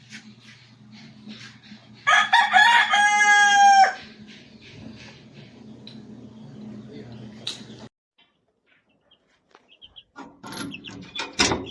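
A rooster crows loudly and close by for about two seconds among clucking chickens, with ongoing low farmyard noise before and after and a brief quiet gap near the end.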